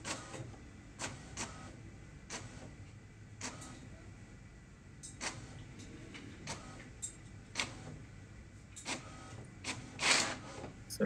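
An HP DeskJet 3788 inkjet printer prints a test page, giving quiet mechanical clicks and ticks at irregular intervals over a low motor hum, with a brief louder whir near the end.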